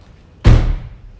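One solid slam of a car door shutting, near and loud, with a short decaying tail and no voices.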